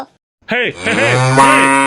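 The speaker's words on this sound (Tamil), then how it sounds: "அடி மாடு கத்துதுடி" A cartoon cow lets out a loud, drawn-out moo close up, rising in pitch, after a moment of silence.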